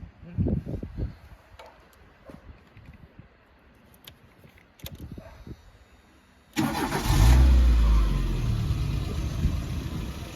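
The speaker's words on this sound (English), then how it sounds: "we've got Joe's about to start up the car." A ZX car with a 1.4 litre injection engine cranks and fires up, then revs and settles into a loud, rumbling idle, preceded by quieter clunks and movement nearby.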